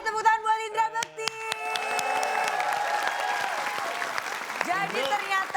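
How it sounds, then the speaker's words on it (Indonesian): Audience applause for guest Indra Bekti at a live television comedy show, a steady wash of clapping from a crowd that swells after a host's voice, continuing under scattered talk. "Kita kasih tepuk tangan buat Indra Bekti."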